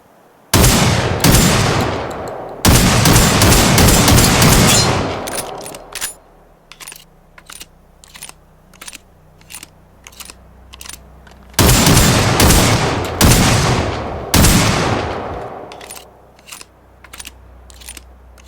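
Bursts of heavy automatic gunfire from a heavy weapon in the video game Generation Zero, loud rapid rattling volleys broken by single sharp shots and a shorter pause, with brass-like clinks trailing between bursts.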